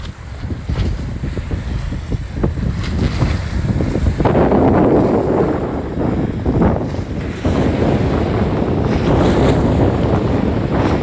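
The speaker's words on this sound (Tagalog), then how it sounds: "kaya yung alon niya tamang tama lang." Ocean waves under cloudy skies before an approaching typhoon wash and churn continuously against a heavy rush of wind buffeting the microphone, loud and unbroken throughout.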